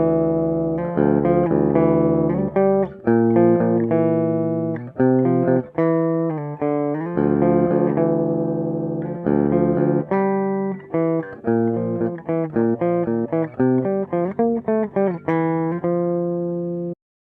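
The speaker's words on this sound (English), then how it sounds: "In this case, I'll be using my Schecter guitar." A Schecter electric guitar plays a clean, melodic line of single notes and short phrases, close and direct as if recorded straight into a computer, with brief pauses between runs and no voices.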